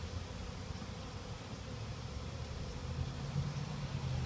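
Bees in a hive newly placed on city property hum in a steady, low drone that holds throughout and swells slightly toward the end, close by with no talk.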